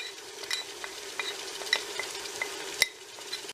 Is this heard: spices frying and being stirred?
yes